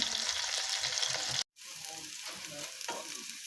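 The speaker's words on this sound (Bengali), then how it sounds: "আমি পেঁয়াজ লঙ্কাগুলোকে এইভাবে ভেজে নিচ্ছি দুটো তিনটে লঙ্কা কুচিয়ে দিয়েছি একটা বড় পেঁয়াজ দিয়েছি এগুলো ভেজে নিচ্ছি" One large chopped onion and two or three chopped green chilies fry in a pan on a gas stove, giving a close, steady sizzle with scraping stirs, broken by a brief silent gap.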